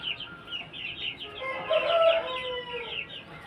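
A Vilaiti game rooster, a cross with Thai and Punjabi breeds about one and three-quarter years old, gives a faint, fairly distant crow with soft clucking around it in a quiet outdoor setting.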